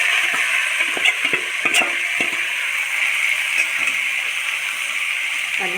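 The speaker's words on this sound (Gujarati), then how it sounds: "હલાવી દઈશું થોડીક વાર એને બધા મસાલા મિક્સ થાય એવી રીતે તેલમાં સાંતળી લેશું" Mixed vegetables and spices for Surti undhiyu sauté in hot oil in a kadai, giving a steady close sizzle with scattered stirring clatters and scrapes throughout.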